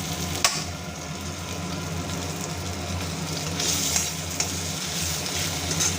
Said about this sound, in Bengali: কালো জিরে এবং কাঁচা লঙ্কা ফোড়ন হিসেবে দিয়ে দিলাম